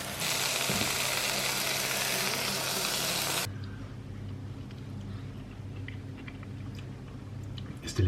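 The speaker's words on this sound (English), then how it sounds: "I'm just going to cut them up and fry them with a bit of garlic and butter" Parasol mushrooms fry in garlic and butter with a loud, steady sizzle for the first few seconds, which then drops to a much quieter, faint crackle.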